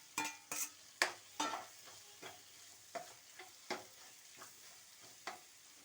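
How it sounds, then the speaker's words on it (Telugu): A fried egg is stirred into a pan seasoned with chili powder: sparse, distinct scrapes and taps of a spoon ring out close over a faint, quiet sizzle, with no talking. "తర్వాత మనం వేయించి పెట్టుకున్నాం కదా ఎగ్, ఇది దీంట్లో వేసేస్తున్నాం"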